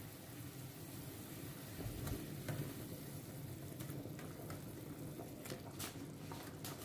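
Fish pieces go into a pot of boiling vegetable water, giving a steady, moderately quiet bubbling and sizzling wash with a few soft splashes and clinks. No one talks.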